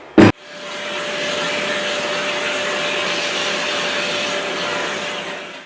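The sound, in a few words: Festool dust extractor vacuuming a bin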